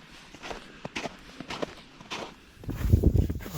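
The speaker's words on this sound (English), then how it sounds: "sometimes you don't even know you're on them in the winter unless you hear kind of a hollow sound" Footsteps crossing a hollow wooden boardwalk on a winter trail through oak and pine woods, a run of steady, fairly close steps followed by a louder, heavier stretch of thudding.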